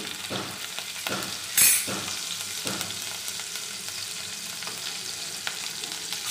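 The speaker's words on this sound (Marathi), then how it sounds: "तेल तापलेलं आहे, मोहरी टाकून घ्यायची आहे, जिरे, हिरवी मिरची," Mustard seeds, cumin and green chili sizzle and crackle in hot oil in a pan, a steady close frying hiss with a few sharp pops and stirring scrapes, no voices over it.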